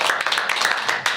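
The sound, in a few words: applause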